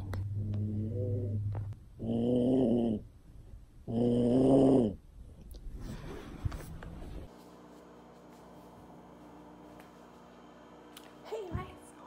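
Three long, loud snoring breaths with pauses between them, close by, then quieter rustling and a steady low hum.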